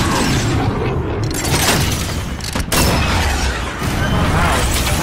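Dense, continuous gunfire and booming blasts from a Call of Duty: Modern Warfare multiplayer match fill the whole stretch loudly, with rapid bursts and a sharp break midway, while a player talks over the battle noise.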